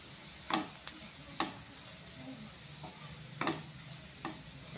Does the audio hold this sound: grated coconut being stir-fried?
yes